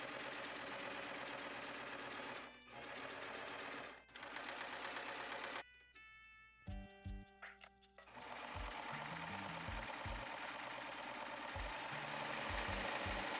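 Sewing machine, likely an overlocker, finishing the raw edges of wide-leg trouser pieces, a continuous fast mechanical whirring at close range, broken by a few brief pauses and stop-start bursts midway before resuming steadily.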